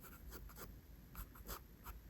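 A pencil sketches the lines of a nose on paper, giving soft, close scratchy strokes in short bursts with brief pauses between them, and no one talks.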